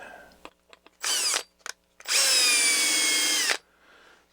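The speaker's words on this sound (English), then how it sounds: "I'm just going to drill out these rivets and be done with it" A power drill bores out brass rivets on the handle of an HP 427A voltmeter, making a short whine burst and then a longer sustained high spin-up with loud grinding, framed by small clicks and handling noises.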